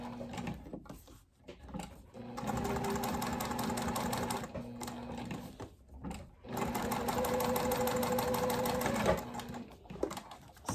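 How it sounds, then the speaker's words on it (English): A sewing machine stitches a wallet snap tab with thick thread in two sustained bursts of rapid, rhythmic needle clatter, close and moderately loud, separated by brief pauses and ending with a few short taps. "I'm going to go ahead and start sewing my snap tab"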